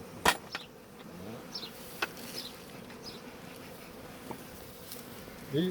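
A faint, steady hum of honeybees buzzing at a hive hangs low in the background, broken by a few sharp clicks and taps.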